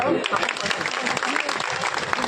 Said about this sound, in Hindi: मातृ शक्ति के लिए जोरदार तालियां बजाइए